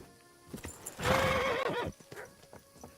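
Horse hooves clopping and a loud, drawn-out neigh from a horse in Kingdom Come: Deliverance II, the whinny rising near the middle between scattered footfalls.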